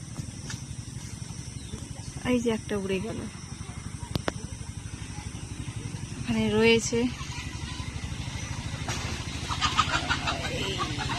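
Chickens cluck in two short bursts amid a constant outdoor hum, with faint murmuring voices and a distant engine in the background.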